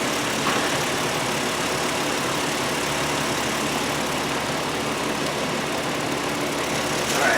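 A car engine idles steadily in a garage bay while warming up after a heater and coolant repair. The hum is constant, with no voices and a slight lift at the very end.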